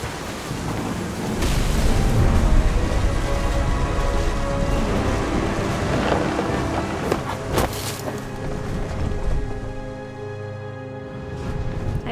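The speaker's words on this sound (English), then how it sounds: "It's a bad storm." Storm ambience in the video game What Remains of Edith Finch: a steady loud wash of wind and rain with rumbling low-end surges like thunder, a few sharp cracks near the middle, easing toward the end; no talk.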